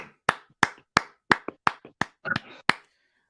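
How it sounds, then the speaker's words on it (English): A single person claps about nine times in a slow, steady rhythm, each clap sharp, close and distinct, in an otherwise quiet room. "We got to clap it up for Kevin."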